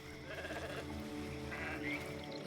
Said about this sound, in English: The sheep's voice warbles.